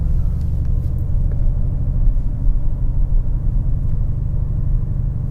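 Steady low rumble of a 2020 Audi S6 TDI, a two-ton diesel estate car, idling or cruising close by with a dense droning engine tone and no voices.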